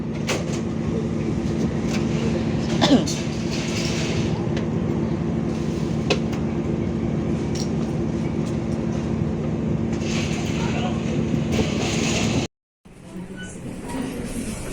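KA Pangandaran panoramic train pulling into Cibatu station, heard from inside as a steady loud rumble with faint rail clicks and a brief drop near the end.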